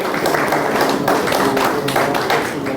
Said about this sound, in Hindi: अरे ताली तो बजाओ, योग का मान तो रखो।